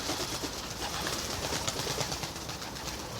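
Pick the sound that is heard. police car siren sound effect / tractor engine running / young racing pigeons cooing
young racing pigeons cooing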